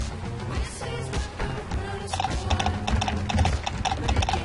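Rapid hoof clip-clops from a horse in the Slender horse video game, a busy close rhythmic patter of taps over a thick game soundtrack, with no talk.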